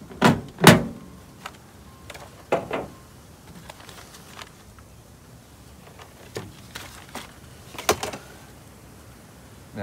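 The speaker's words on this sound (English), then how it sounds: "Take the bottom panel off." A car door's bottom trim panel being worked loose, giving a string of sharp plastic clicks, snaps and knocks, close and irregular with quiet gaps between them.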